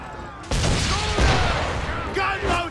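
An enemy ship fires cannons and guns in Assassin's Creed 3, a loud volley of booming shots with crackling gunfire and a second burst near the end, with a voice speaking over it.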